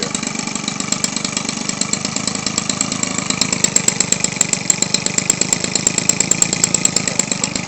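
A Weed Eater Featherlite 21cc two-stroke gas engine idles steadily and close by, with a rapid, even putter and a raspy buzz that holds constant with no talking.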